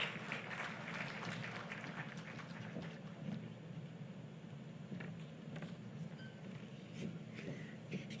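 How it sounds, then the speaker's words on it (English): Audience applause at a formal leadership programme opening, a steady wash of clapping heard from a distance, fairly faint and continuous throughout. "Please, a round of applause."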